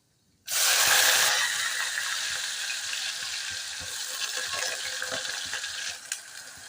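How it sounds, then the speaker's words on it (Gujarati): Chopped onion dropped into hot oil already holding cumin seeds erupts in a loud, bright sizzle that stays steady and dense, with faint stirring scrapes and clicks underneath while cooking kantola curry. "હવે પહેલાં એમાં ડુંગળી નાખી દેવું"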